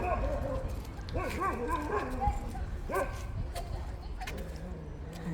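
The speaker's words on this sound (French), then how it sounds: "il y a des chiens et des maîtres pas très doués" Several dogs bark and yip in short bursts a little way off, with scattered whimpers between them.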